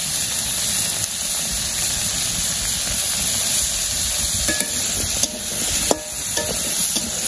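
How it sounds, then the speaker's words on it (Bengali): Papaya pieces fry in a pan and are stirred in with salt, turmeric and chili, giving a steady close sizzle and hiss with occasional scraping clicks from the spoon near the end. "লবণ হলুদ মরিচ দিয়ে কষিয়ে নিব পেঁপে"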